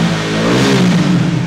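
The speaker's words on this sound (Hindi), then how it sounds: "बाइक अभी नॉर्मल खड़ी है, जैसे ही मैं रेव ज़्यादा करूँगा" A Bajaj Dominar motorcycle engine revs up from idle while standing still, a loud, close, sustained drone that rises and holds with no talk over it.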